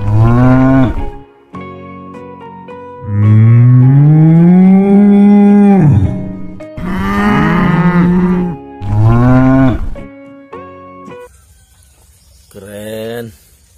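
A toy cattle figure's recorded moo sounds as several long, loud, tonal lowing calls, sustained and wavering. They are spread across the span with short gaps, some overlapping, and each call stands alone near the listener.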